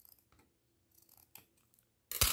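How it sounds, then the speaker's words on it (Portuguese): Scissors snip through ribbon while a bow is made, with a few soft handling clicks before one loud, crisp cut near the end. "Essa tesoura abençoada."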